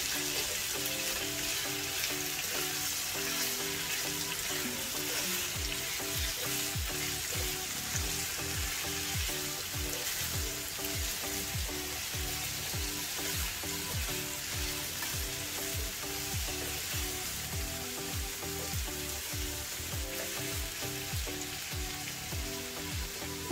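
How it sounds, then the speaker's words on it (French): Chopped onions fry in a pan alongside kale and beef, giving a steady, soft sizzle throughout with a regular scraping stir that repeats about every second, and no voices. "on va remuer et laisser les oignons dorés également"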